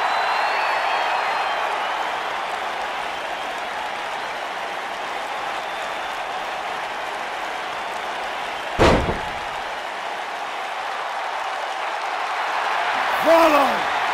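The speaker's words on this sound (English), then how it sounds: "listen to this rally crowd show their appreciation for such a great match" Arena crowd applauding after a match in the WWE 2K19 wrestling video game: a steady, dense roar of clapping throughout, broken by a single sharp slam midway and a short chirp near the end.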